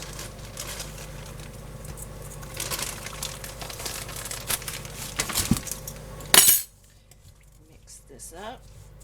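A spoon stirs and scrapes through budget granola ingredients in a bowl, with soft clinks and crinkly patter for several seconds, then a sharp knock and near silence.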